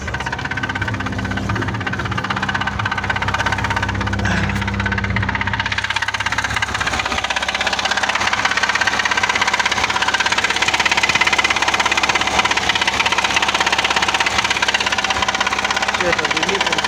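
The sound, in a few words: VAZ-2106 engine knocking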